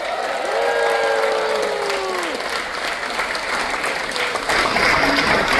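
An audience aboard the cruise ship Oasis of the Seas breaks into a long, steady round of applause, with a few rising whoops early on and the clapping carrying on strongly to the end.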